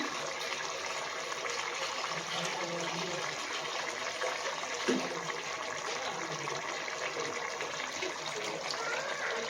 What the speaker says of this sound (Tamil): நம்ம 9 கிளாஸ் அளவுக்கு நம்ம தண்ணி வந்து சேர்த்துக்கலாம்.